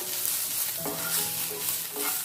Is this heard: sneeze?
no